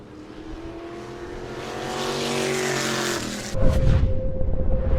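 Bomber race car engines drone and build as cars approach on the New Smyrna track, then a loud roar sweeps past nearby with a sharp change in pitch.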